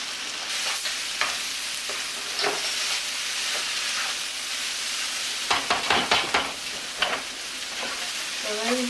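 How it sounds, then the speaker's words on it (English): Cilantro and onion mixture fries for curry fried rice, a steady loud sizzle in the pan, close up, with a run of scraping stirs and clinks near the end. "now I'm going to add the cilantro onion mixture"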